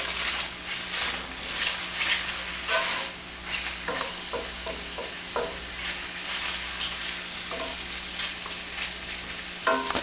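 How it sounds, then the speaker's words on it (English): Bacon frying in a pan, a continuous close crackling sizzle with occasional scraping taps as the strips are moved around, steady throughout without talk. "Once this bacon starts cooking a little faster, you're gonna need to just pay a little more attention to it, keep it moving."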